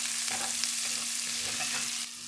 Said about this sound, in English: now I'm gonna add in the garlic and the shallots. And I wanna let this cook down a little.